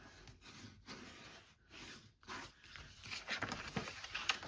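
Bone folder rubbing and creasing 8x8 inch paper for a flip-open journal, a series of close, dry scraping strokes with brief pauses between them and no voices.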